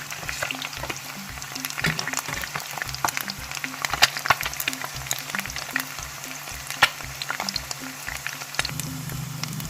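An egg fries in hot oil to a crisp edge, crackling steadily with sharp random pops and spatters at close range, quiet overall and with no voices.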